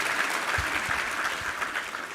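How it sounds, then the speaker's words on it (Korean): A church congregation at a Sunday worship service claps together, a steady, moderately loud wash of many hands with a few sharper nearby claps standing out. "우리 하나님께 감사와 영광의 박수 올려드리겠습니다"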